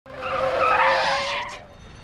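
Car tires squeal in one sustained skid lasting about a second and a half during a car chase in an action film, loud and close with no speech.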